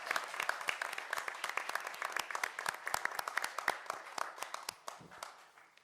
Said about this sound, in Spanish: pido un nuevo aplauso para...